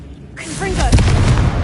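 A Confringo blasting spell explodes in Hogwarts Legacy: a loud, deep boom that swells and rumbles on for over a second, with a shouting voice mixed into the start of the blast.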